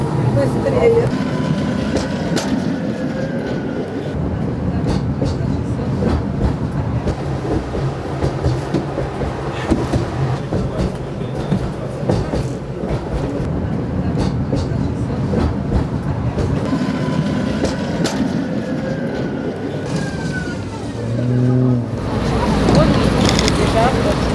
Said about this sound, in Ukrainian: це трамваї з міста Пльзень з Чехії.